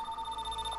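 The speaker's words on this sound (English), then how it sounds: "my phone's ringing." A telephone rings with a steady electronic tone, loud and alone for a moment, its pure sustained pitch holding throughout.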